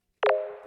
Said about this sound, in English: Clicky Sign's a cool patch. That's a stock one in Reason.